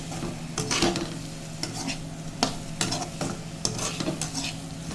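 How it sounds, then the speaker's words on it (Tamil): Chilli powder frying in a pan for drumstick sambar while a spoon stirs it, a steady close sizzle broken by repeated scraping clinks of metal on the pan. "இந்த மிளகாத்தூள் வாசம் போகிற வரைக்கும் கொஞ்சம் நேரம், ஒரு 5 மினிட்ஸ் கிளறினா போதும்."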